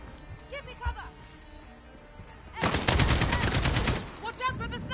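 Sustained rapid gunfire in the Call of Duty: Warzone video game erupts loudly after a stretch of voices, a dense burst of shots lasting over a second, with more shouting before and after.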